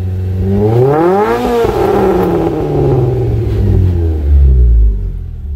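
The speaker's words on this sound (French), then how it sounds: "Allez, mets un coup de gaz." A Renault Clio 3 RS fitted with a GT Performance exhaust revs up and holds its engine sound nearby, loud and rumbling, with the pitch climbing and then falling back as a deep tone settles in. No one talks.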